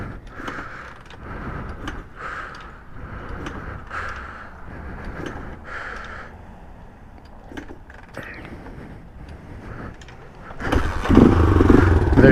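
A Honda XL500 motorcycle kickstarted cold with the choke on, a run of sharp kick strokes and sputters under low mechanical noise, then the engine catching into a louder, broadband running roar near the end.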